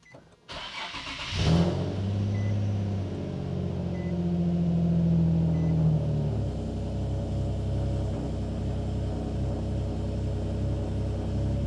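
A turbocharged Infiniti G37 sedan with dual exhaust cranks and starts on a dyno, then revs up with a deep, rising exhaust roar before settling into a loud, rumbling idle, close and continuous.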